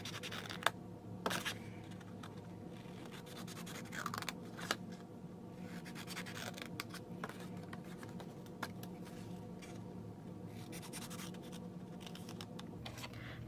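Scissors snip through paper while cutting out a triangle for a paper Easter basket, producing quiet, intermittent scratchy cuts and small clicks at close range.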